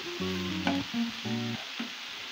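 Leeks and mixed vegetables sauté in a pan for Cameroonian jollof rice, a steady sizzle with a low tonal hum and brief stirring scrapes, close and alone.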